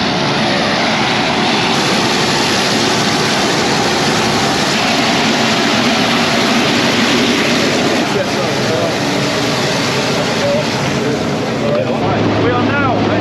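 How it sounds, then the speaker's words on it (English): Loud, steady roar of a skydiving plane's engine close by during the climb to altitude, a continuous broadband drone that fills the whole clip, with people talking beneath it. "The plane's over here, as you can probably hear."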